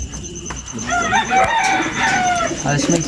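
Many pigeons in a breeder loft, a busy chorus of close cooing and fluttering calls layered over steady background noise.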